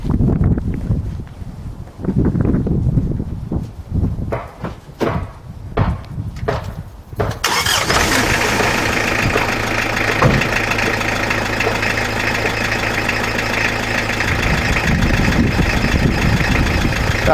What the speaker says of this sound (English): that's the truck running on just vegetable oil, basically.